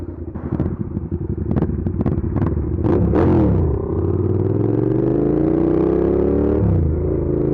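A Witex ESV 650 motorcycle engine while riding, with a few sharp throttle blips and pops followed by a sustained rising rev as it accelerates, loud and close, then a brief dip and recovery.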